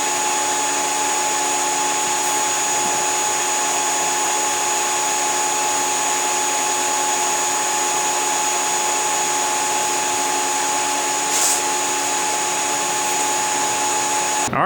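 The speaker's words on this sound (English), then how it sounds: "I'm gonna try to weld all of this out with the torch switch." A steady, even hiss and hum of TIG welding on a scrap-metal welding cart frame continues unbroken and close, with a faint high electrical whine beneath it.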